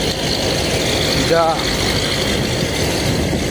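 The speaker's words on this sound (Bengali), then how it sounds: "আমরা দেখতে পাচ্ছি তার পাশ দিয়ে একটা ট্রলার যাচ্ছে, সেটা হলো তেলের ট্রলার," A trawler that carries oil, passing on the Turag river, drones as a steady, close engine hum with a constant low throb, and a voice carries faintly over it.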